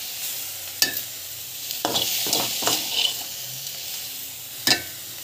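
Onions and tomato with salt sauté in a pan, a steady sizzle broken by several scraping stirs of a spatula, close and fairly loud, with no talking.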